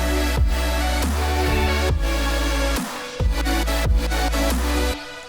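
Dense, bright supersaw future bass drop chords pulse in a rhythmic pattern over a heavy bass, with brief dropouts between hits, loud and continuous with no voice.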